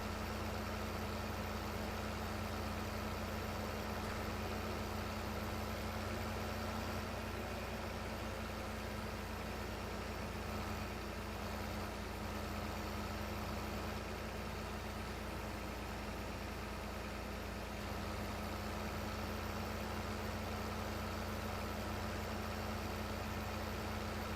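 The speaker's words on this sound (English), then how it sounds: "it's because I'm driving the tractor myself" A tractor engine in the farming game Farming Simulator 15 idles and runs with a steady low drone, constant and unchanging, with no talk over it.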